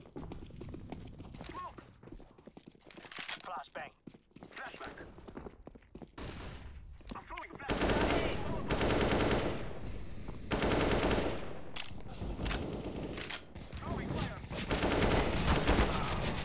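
Negev machine gun fire in Counter-Strike: Global Offensive, long sustained loud bursts of rapid automatic shots after a quieter stretch of scattered shots and game sounds, with no talk.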